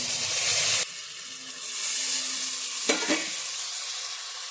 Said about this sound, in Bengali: ভাজা হয়ে গেছে, এখন মাছটা দিয়ে জল দিয়ে দেব।